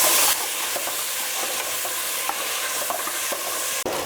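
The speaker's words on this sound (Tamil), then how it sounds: "தக்காளி காயெல்லாம் போட்டு ஓரளவுக்கு வதங்கிருச்சு." Tomato and chopped vegetables sautéing with salt in a pan, a steady close sizzle with faint scraping stirs, no talking.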